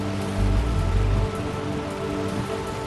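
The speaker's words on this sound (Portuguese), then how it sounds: "Uma forte chuva cai sobre a maior cidade do Brasil" Heavy winter rain pours down steadily over São Paulo, Brazil, near Congonhas airport, a dense even roar of drops with a deep rumble swelling briefly early on.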